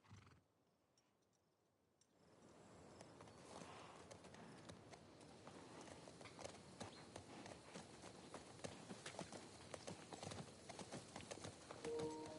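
Horse hooves clip-clop steadily as Joel rides at sunset toward Jackson in The Last of Us Part II. A quiet opening gives way to a continuous, moderately close gait.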